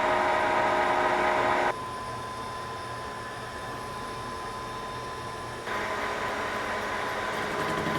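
A Lion lathe turns at 200 RPM, taking a slightly undersized cut on a large metal workpiece: a steady, close mechanical drone with a faint whine that drops in level partway through, then rises again.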